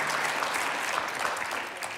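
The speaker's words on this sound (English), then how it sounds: "how about a big round of applause for Gentle One?" A small live audience claps in a dense, steady round of applause, close and continuous for the whole stretch, with a faint voice or two underneath.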